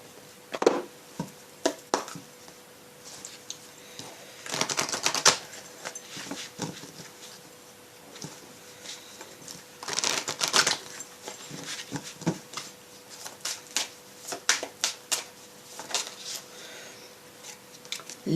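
Oracle cards of an archangel deck are shuffled and handled in soft, irregular bursts of papery riffling and rubbing, close and fairly quiet, with pauses between flurries.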